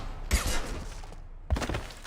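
Two loud bursts of gunfire in Mass Effect 2, each a sharp onset followed by a brief rattling tail, about a second apart.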